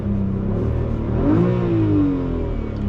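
A BMW E92 coupé, 325i or 335i, revs from inside the cabin: the engine note climbs in a rising sweep, peaks, then falls back to a steady idle hum, close and moderately loud.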